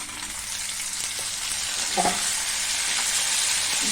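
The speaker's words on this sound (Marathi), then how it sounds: "टमॅटोला सुद्धा चांगला अगदी व्यवस्थित परतून घ्यायचं" Tomato and onion saute in a pan with a continuous moderate sizzle, a few soft stirring scrapes and a brief clink near the middle, with no talking.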